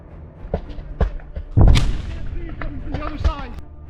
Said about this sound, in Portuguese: Um dos soldados da Chosen lança uma granada de fragmentação onde estão os últimos